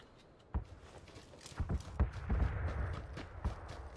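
Horse hooves clip-clopping in PUBG, a run of close, uneven hoof thuds at a walking pace over a low background bed.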